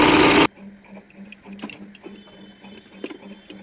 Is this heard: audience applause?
no